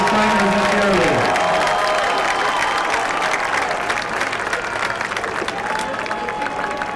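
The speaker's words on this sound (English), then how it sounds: "Let's have a big round of applause for our 2021 senior football players," Crowd at a high school football game applauding and cheering for senior players, managers, trainers and cheerleaders, loud sustained clapping with a descending tone at the start.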